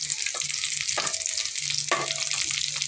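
Tofu and meatballs frying in a small pan give a steady, close hiss of sizzling oil, with two brief stirring scrapes partway through and no voices.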